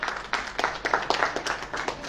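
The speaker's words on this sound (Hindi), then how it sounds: "प्रभु के लिए एक बार फिर जोरदार ताली बजाएं।" A congregation at a Christian worship service claps together in a short, moderately quiet burst of applause with uneven, overlapping hand claps.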